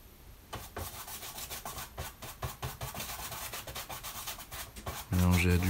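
A paintbrush sweeping and blending yellowish-green acrylic paint on canvas, producing repeated close rubbing strokes in a steady rhythm, with a brief louder burst at the very end.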